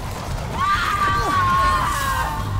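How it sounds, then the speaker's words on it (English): A drawn-out, wavering scream from the horror video game The Chant rises and bends over a steady bed of game noise, with a voice mixed in. "And the screaming."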